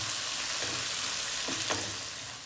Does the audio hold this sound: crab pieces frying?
yes